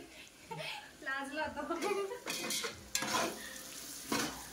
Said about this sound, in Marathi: आता हे चांगलं एकदा याला तेल सुटेपर्यंत मस्त फ्राय करून घ्यायचं